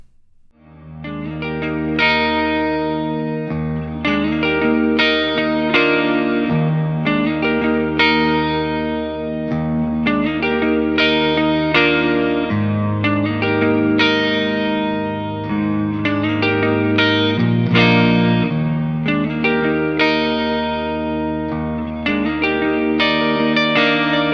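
Electric guitar playing clean chords and picked notes through the clean channel of a PRS Archon 50 amplifier, ringing and sustained with a touch of chorus-like shimmer, no talking.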